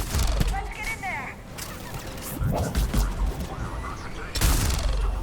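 Rapid gunfire crackles through a firefight at a checkpoint in the video game Mass Effect, with loud bursts and booms in the mix and voices talking over the shooting.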